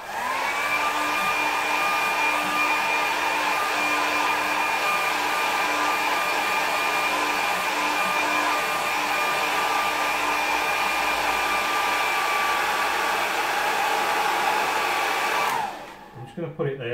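A hair dryer blows steadily and loudly for about fifteen seconds over a watercolour painting of a rocky coastline, holding an even whine before it is switched off near the end.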